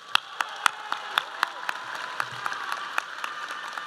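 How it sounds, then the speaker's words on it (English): A graduation crowd gives an ongoing round of applause for the students, with steady, sparse claps from many hands spread over a room, some individual claps standing out sharply, and faint voices underneath. "Please give them another round of applause."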